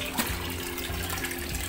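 Water gushes from an opened drain valve on a turtle pond filter, a close, steady rushing flow with a dull repeating low gurgle beneath it.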